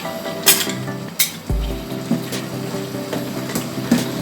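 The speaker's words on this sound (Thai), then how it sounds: "ต่อไปเราก็จะใส่เครื่องแกงกะหรี่ลงไปค่ะ" A utensil stirs curry paste into coconut milk in a cooking pot for a vegetarian curry, with several light clinks and scrapes against the pot over a quiet kitchen background.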